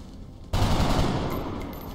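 Gunfire in the strategy game XCOM Long War: after half a second of quiet, a single loud, sustained burst of automatic weapon fire erupts and rings out, slowly tapering over the next second and a half.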